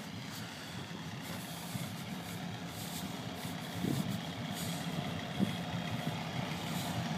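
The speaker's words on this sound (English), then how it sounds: "Just letting the engine warm up a little bit before I take it out." A parked truck's engine idles steadily while warming up, a low continuous rumble heard close by with a couple of faint clunks and no one speaking.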